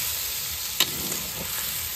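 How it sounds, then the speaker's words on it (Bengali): Chicken curry sizzles steadily in a pan as water is splashed in, with a sharp hiss burst near the start and continuing broadband frying noise close by. "তো এখন কষানো হয়ে গেছে, এখন জল দিয়ে দিচ্ছে।"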